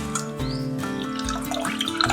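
Crab shell extract with water being poured through a strainer, a steady close trickle and drip of liquid with small splashes, fairly quiet and without speech.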